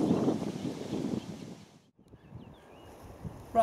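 Gusting wind on an open, off-the-beaten-track hiking route in the UK countryside, loud broadband buffeting at first, easing to a low rumble after a brief lull, then a sharp gust at the end.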